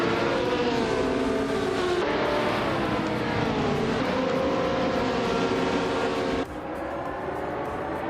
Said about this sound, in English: driving a classic 1970 Porsche 917 LH